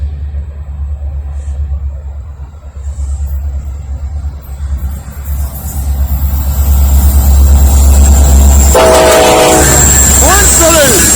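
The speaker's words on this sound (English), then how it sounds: "When this train passes by," A southbound Norfolk Southern freight train rumbles past at close range in Lynchburg, Virginia, loud and building steadily, with a horn sounding near the end.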